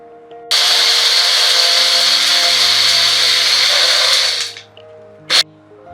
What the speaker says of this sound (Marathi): मिक्सर मध्ये वाटून घेत आहे।